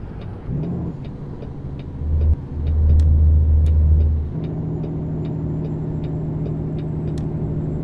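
Heavy truck engine in American Truck Simulator revving and shifting through split gears, a steady low drone that swells louder for a couple of seconds, then drops and settles into an even rumble, with faint periodic ticks above it.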